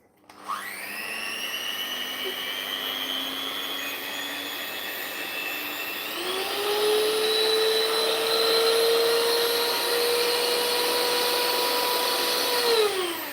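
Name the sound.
electric hand mixer running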